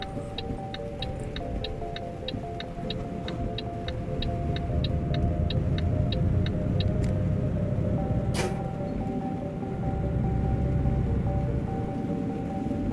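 Heavy truck engine in Euro Truck Simulator 2 rumbling steadily as it slows and shifts down, with a faint regular ticking like an indicator through the first seven seconds and a brief higher tone near the end; no talking.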